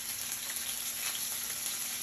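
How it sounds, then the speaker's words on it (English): Rainbow trout fries in hot oil, giving a continuous, even sizzle that stays steady and moderately quiet throughout. "I'm going to take my fish and put down in the hot oil. You can see it's just sizzling away here,"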